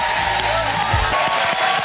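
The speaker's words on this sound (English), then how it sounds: "I'm clapping for myself." Studio audience applause on a live daytime talk show, with an actress clapping along, a dense steady wash of many hands filling the short stretch, close and loud.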